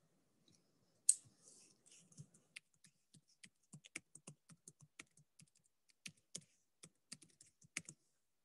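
Keyboard typing as a username and password are entered, a quick irregular run of soft key clicks with short pauses, close and fairly quiet, no speech.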